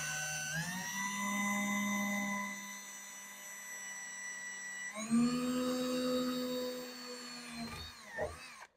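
An electric drill whines steadily as it bores holes for rear window chrome trim studs on a Pontiac Firebird or Chevy Camaro, running in two long bursts with a pitch shift between them before winding down.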